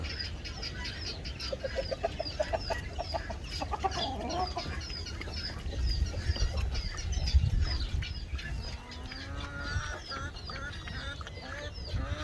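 A flock of chickens clucks and chatters continuously nearby with a rooster, including guinea fowl, with honking birds mixed in over a low, steady background rumble.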